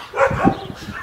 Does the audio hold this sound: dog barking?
yes